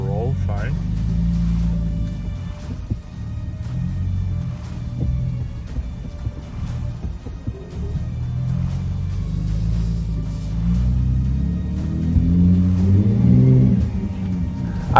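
A 2022 Ford F-150 Raptor crawls over rocks off-road in rock crawl mode with the rear differential locked, its low engine rumble steady and close beneath someone talking.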